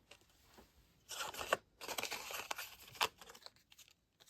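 A paper card runs through a die cut and emboss machine, giving a quiet series of crinkly, crunching rasps in two or three short bursts, close by with no talk.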